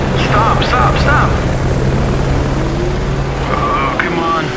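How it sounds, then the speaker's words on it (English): A helicopter drones overhead in Baja: Edge of Control, an off-road racing game played on Xbox 360 during the Baja 1000, a loud steady rotor and engine hum with brief voices over it. "Hey, there's the helicopter!"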